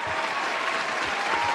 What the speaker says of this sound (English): Can you give Scrub Enough a round of applause?